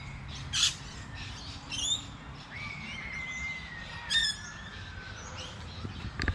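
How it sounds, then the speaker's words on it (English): Birds squawk and chirp loudly nearby, with sharp repeated calls and a long piercing whistle-like scream over faint background rumble. "Geez, the birds are noisy today."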